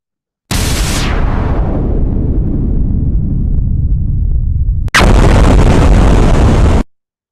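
A battle sound effect built from gunfire and blasts: one heavy explosive boom rolls off into a long fading rumble, then a sudden dense, loud burst of noise holds for about two seconds before cutting off.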